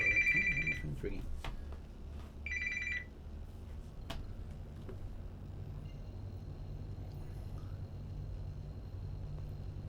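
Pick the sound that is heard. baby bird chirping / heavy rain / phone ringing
phone ringing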